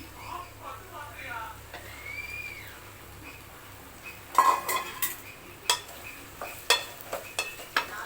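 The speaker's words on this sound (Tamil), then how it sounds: "இப்போ வெண்டைக்காய் போடலாம்" Okra goes into a pan of sautéed onion and tomato, with clattering utensil scrapes and knocks against the pan over a soft sizzle, preceded by a stretch of quieter background.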